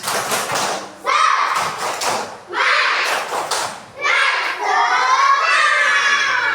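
A class of young children performs a rhythmic clapping chant together, bursts of claps and shouted voices repeating in several loud waves, with children's voices filling the gaps.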